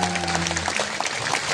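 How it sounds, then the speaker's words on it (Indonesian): Audience applause for a young child named Aura at an Islamic religious gathering, a steady, dense clapping that fills the whole moment without pause, with a low sustained tone underneath early on. "tepuk tangan untuk Aura."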